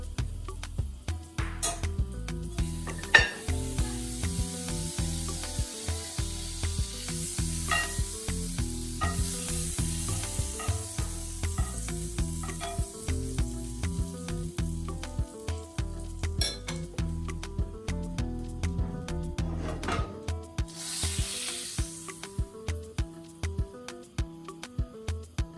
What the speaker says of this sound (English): pan on the stove, medium heat, and I'll add butter